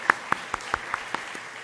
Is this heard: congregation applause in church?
yes